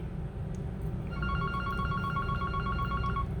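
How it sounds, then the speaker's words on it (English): A phone rings over a low background rumble during an iPhone 8 screen repair, with a steady repeating ring pattern starting about a second in and continuing to the end. "that phone rings right when I need to pick up a screw"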